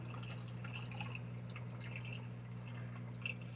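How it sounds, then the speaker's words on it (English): Water trickling and dripping into an aquarium canister filter to push out trapped air, a soft continuous liquid patter over a low steady hum. "I'm going to put some more water in to try to push as much of the air out of this filter"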